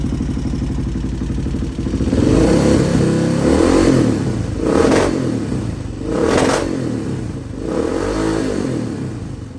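A 1986 HRC XR628R dual-carb motorcycle engine revving close by, loud throaty idle swelling into three or four rising throttle blips with a rough, clattery edge, no talk.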